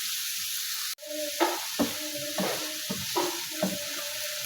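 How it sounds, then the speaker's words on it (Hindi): Chopped onions sauté with garlic in a pan over low flame for chicken kachori, a constant bright sizzle punctuated by a sharp drop as they go in, then rhythmic close stirring scrapes. "ये चॉप प्याज मैं इसमें ऐड कर दूँगी। प्याज को सिर्फ सौते करना है"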